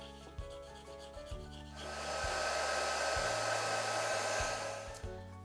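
A heat tool blows a steady, close whooshing hum to melt clear embossing powder on stamped paper. Faint taps and handling sounds come before the blower starts.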